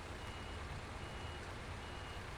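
Reversing alarm beeps from a truck in the SnowRunner video game, a steady repeating pattern over constant engine rumble and broadband game noise, no talking.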